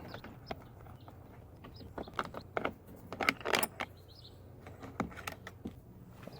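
Metal clicks, rattles and tool taps while a long Torx 30 driver backs bolts out of a Mercedes ML350 W164 door panel, close and fairly quiet with intermittent sharp ticks.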